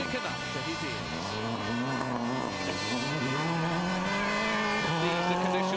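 Rally car engine on a Wales Rally GB stage during the 2001 World Rally Championship, a loud, sustained engine note rising and falling in pitch as the car works through gears. A commentator talks over it.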